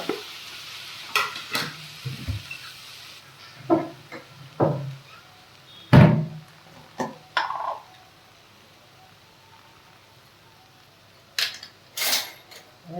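Two medium tomatoes go into bhindi masala frying in a pan, bringing intermittent scraping stirs and short bursts of sizzle between quiet gaps, closely miked.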